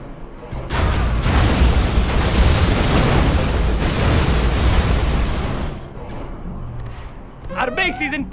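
Scud Storm missiles strike in Command & Conquer: Generals Zero Hour, setting off a loud, rumbling barrage of explosions that lasts several seconds and then fades, with short in-game unit voice lines heard near the end.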